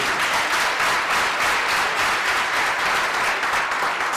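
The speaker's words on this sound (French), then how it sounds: "Applaudissez." Sustained applause from an audience at a GSM technicians' colloquium, dense and even clapping from many hands, loud and continuous for several seconds without talk.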